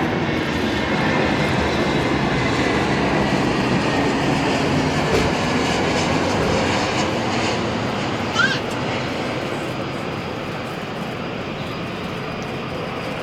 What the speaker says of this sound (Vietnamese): bây giờ chiếc máy bay đang hạ cánh xuống đường băng 25 trái.